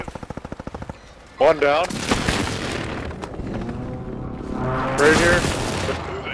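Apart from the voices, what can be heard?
gunfire in video game Warzone 3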